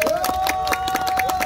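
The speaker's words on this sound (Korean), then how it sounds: "박수 한번 쳐주십시오" Audience applause at a 2022 mayoral candidacy press conference in Gwangju, a steady mass of claps from a room of people, continuous and moderately loud with a sustained tone running underneath.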